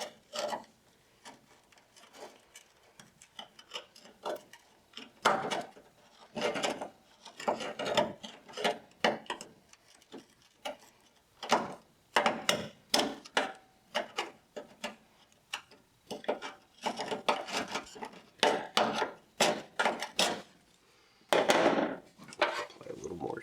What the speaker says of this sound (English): once it's kind of soft, the chisel is able to get quite a bit of it out